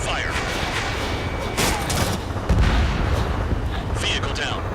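Aircraft guns firing in the flight combat game Ace Combat 7, a dense roar of bursts and booms over continuous engine rumble, with a heavier thump near the end while a radio voice speaks over it.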